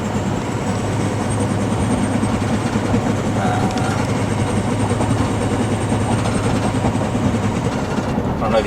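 In the cab of a Powerstroke 6.0 truck on the highway, the exhaust knocks against the chassis. It produces a loud, continuous droning rumble and rattle that resonates through the cab.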